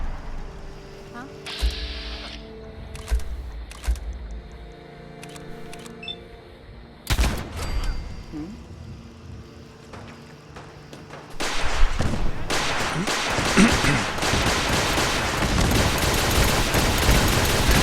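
Missile launcher fire in Fallout 4 arrives as sharp, isolated blasts and thumps early on, followed by a long, loud stretch of rumbling explosions and dense combat noise, with game voices scattered throughout.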